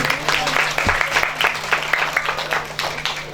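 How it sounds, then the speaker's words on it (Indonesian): An audience of parents applauds at a graduation ceremony, a crowd of scattered, uneven hand claps filling the room at moderate loudness, with a faint steady hum underneath. "Jadi tepuk tangan Bapak Ibu."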